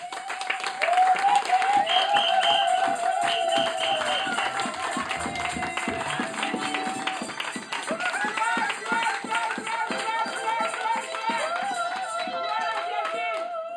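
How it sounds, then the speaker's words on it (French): A church congregation applauds and cheers for Jesus in a sustained, busy wash of clapping that runs throughout, while a preacher's amplified voice calls out over it. "Acclamons Jésus très fort, acclamons le roi des rois"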